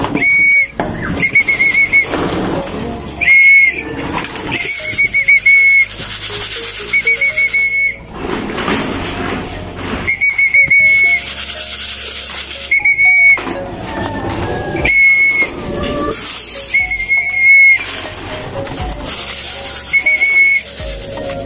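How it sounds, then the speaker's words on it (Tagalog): A whistle blown in repeated short and long bursts to call pigeons at feeding time in a loft, loud and close, separated by pauses filled with rustling and flapping. "Para kapag kakain sila is pantawag natin is pito."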